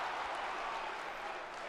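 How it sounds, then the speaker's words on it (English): Crowd cheering at a wrestling show in a gymatorium, a steady broad wash of distant cheers and applause with no breaks, fairly faint. "The gymatorium, though, cheering for Deckard Shaw, it appears"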